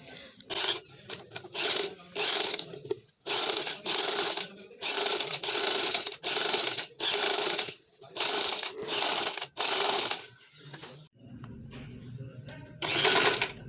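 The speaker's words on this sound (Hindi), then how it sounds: "अब हम इसकी सिलाई लगाना शुरू करेंगे। बुकरम के साथ साथ हमने सिलाई लगानी है।" A sewing machine stitches buckram into an angrakha garment in repeated bursts of rapid mechanical chattering, about a dozen runs separated by short pauses, close and clear, with a low hum between stitches.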